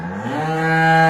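A single cow in a pasture lets out one long, loud moo that rises in pitch and holds, close by.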